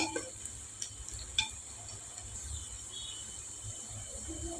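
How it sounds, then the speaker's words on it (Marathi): Chopped onions sizzle steadily in a hot pan for egg biryani, with occasional scrapes and light clinks as a spoon stirs them, the frying hiss continuing alone throughout. "कांदा भाजत असताना आता छान मिक्स करून घ्यायचा मधूनमधून"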